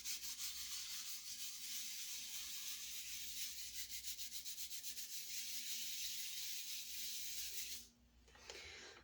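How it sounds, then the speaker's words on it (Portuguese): Fingers rubbing the edges of a fresh pasta dough sheet whose top surface has dried, a close, steady dry rustling scrape that continues evenly and stops abruptly near the end. "Você vai pegar as pontas da sua folha de massa e vai fazer esse movimento aqui"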